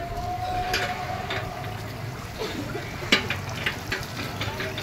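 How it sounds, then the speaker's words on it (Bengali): A large pot of dal cooks in a festival community kitchen, giving off a continuous bubbling sizzle with occasional stirring scrapes and clanks, set against a busy room. "এই যে ডাল রান্না হচ্ছে"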